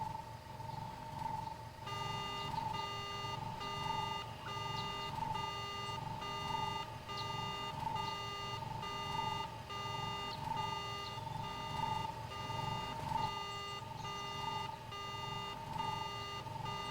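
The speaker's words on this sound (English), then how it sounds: "I'm the one who set off the speed alarm." A steady electronic alarm sounds in the video game Star Wars: Knights of the Old Republic, a regular repeating beep-tone pulsing about twice a second over a low hum, constant in level throughout.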